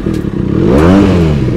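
A Benelli BN302 twin-cylinder motorcycle exhaust revs close up, the engine note rising and holding in a loud throaty burble over a second and a half.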